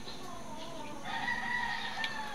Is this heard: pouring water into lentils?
no